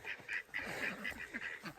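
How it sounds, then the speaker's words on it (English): Ducks quack in a quick, uneven series of short nasal calls at moderate distance, with a steady outdoor hiss in the background. "I should put the ducks away."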